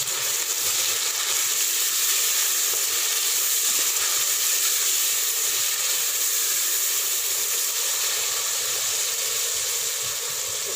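Onions and tomatoes frying over low heat for a Punjabi-style mixed sabzi, giving a loud, continuous, even hissing sizzle that holds steady throughout with no talk.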